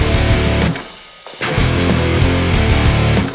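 Loud distorted electric guitar riff of heavy chugging chords, cutting out for a moment before crashing back in.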